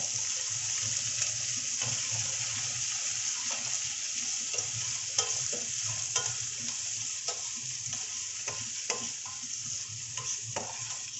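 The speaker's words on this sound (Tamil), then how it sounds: "இப்போ அடுத்தபடியாக கருவேப்பிலை போட்டு பிறகு வெங்காயம், வெங்காயம் வந்து நல்லா கொஞ்சம் முக்காவாசி வதங்கின" Curry leaves and onion frying in a pan with a constant close sizzle, broken by repeated scraping stirs spread through the stretch, with no talk.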